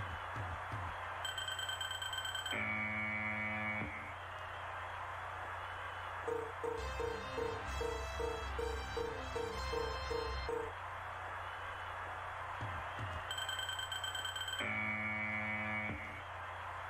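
A buzzer sounds in the video game Crush Deluxe, with tonal game audio and a pulsing rhythmic passage in the middle. A second buzzer burst comes near the end, all under a steady hum.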